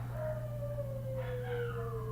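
A dog howls in the background with one long, drawn-out falling tone and a second fainter wail overlapping it, set over a steady low indoor hum.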